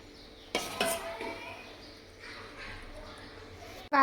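Homemade sweet-and-sour chutney spooned into homemade yogurt and stirred, with a couple of sharp spoon-on-bowl clinks followed by soft scraping stirring, close by and faint, while someone talks.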